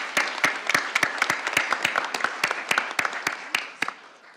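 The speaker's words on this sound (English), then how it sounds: "let's give them a round of applause again for their great work." Audience applause at a plenary workshop after group presentations: sparse, distinct claps from a modest crowd, fairly close, rising and fading over a few seconds with no talk.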